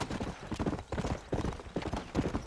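Horse hooves in the video game Red Dead Redemption, a rapid, rhythmic clip-clop of trotting steps, fairly faint and steady with no talking.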